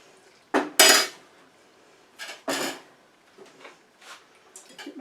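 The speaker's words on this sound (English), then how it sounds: "give it a stir" A utensil stirs dried echinacea in a container with vodka for a tincture, giving a few sharp clinks and scrapes against the container, then softer, irregular taps.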